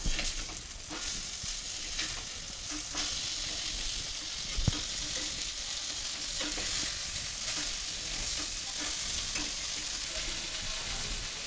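Surmai (kingfish) pieces coated in masala fry on a hot tawa with a steady, close sizzle and crackle, punctuated by faint scrapes and a soft clatter as the pieces are turned over.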